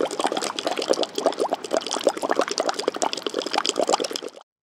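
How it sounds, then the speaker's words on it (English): Bubbling liquid used as a hard sound effect for film, a dense stream of rapid gurgling pops running steadily and fairly loud for several seconds, with no voices. "Examples of these are bubbles"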